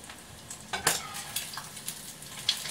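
Breakfast food frying in a pan, a steady soft sizzle with intermittent stirring scrapes and a few sharper utensil clinks against the pan, close and fairly quiet, with no talking.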